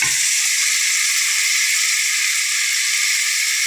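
Chopped brinjal hits a hot pan with onions for a homestyle Kerala theeyal, giving a steady, close, bright sizzle that holds evenly throughout with no talking.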